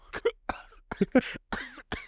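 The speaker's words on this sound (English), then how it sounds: "Start fucking coughing up a lung" Several short, harsh coughs in a row, close and fairly loud, with brief gaps between bursts.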